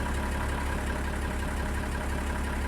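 An open-station tractor without a cab idles in Farming Simulator 19, a steady, dense mechanical drone with a low pulsing throb and no voices.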